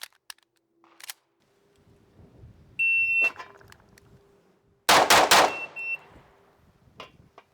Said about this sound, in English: now we're going to make a draw and fire 3 shots under 3 seconds